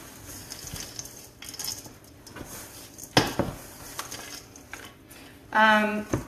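Chopped Butterfinger candy bars being mixed into a mixture in a bowl: intermittent scraping, clinks and knocks of a utensil against dishware. A short vocal sound rises near the end.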